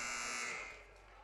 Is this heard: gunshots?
no